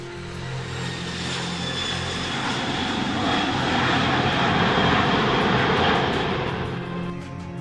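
C-5 Galaxy military transport aircraft engines roaring loudly and continuously, a dense broadband rumble with steady droning tones that swells slightly and then eases off.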